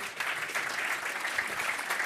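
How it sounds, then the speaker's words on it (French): An audience claps steadily at a business consulting awards ceremony as silver prize winners pose for photos, a dense, even patter of many hands with no voices over it. "On les applaudit."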